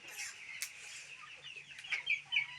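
Desi chickens and young poultry at a Bangladeshi poultry sale cluck softly in a low, steady background, with a few brighter high calls rising near the end and no one talking.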